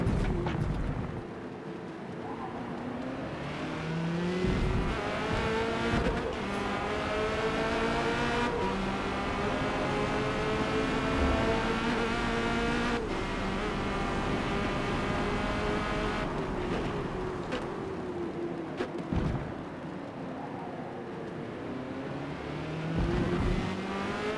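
Corvette C8.R race car in a video game at Laguna Seca, its engine roaring loud and close throughout, rising in pitch through the gears with sharp drops at each upshift and steady revving between.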